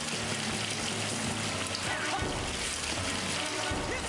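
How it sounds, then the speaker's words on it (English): Rising water surging and splashing in the Psychonauts game, a dense continuous sloshing wash with low thuds near the middle, over game music, with a voice speaking briefly. "I take it there's gonna be rising water."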